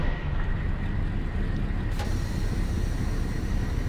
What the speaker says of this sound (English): Turn down a little more of the engine sound.